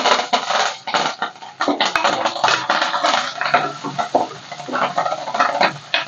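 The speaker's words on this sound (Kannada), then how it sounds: "ಈರುಳ್ಳಿ ಸ್ವಲ್ಪ ಚೆನ್ನಾಗಿ ಫ್ರೈ ಆಗಲಿ ಇವಾಗ ಕರ್ಬೇವಿನ ಸೊಪ್ಪು ಹಾಕ್ತಾಯಿದ್ದೀನಿ" Onion and curry leaves fry in a pan for mixed-lentil sambar, a spoon clattering and scraping against the metal in quick irregular strokes over a soft sizzle, close and fairly loud.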